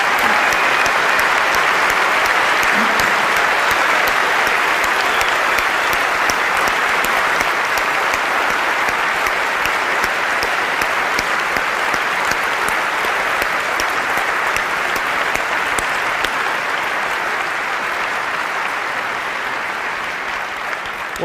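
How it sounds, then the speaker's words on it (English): Sustained audience applause fills a large keynote hall at Macworld San Francisco 2004, dense steady clapping with occasional whistles that stays loud throughout and only eases slightly near the end. "let us give them a round of applause"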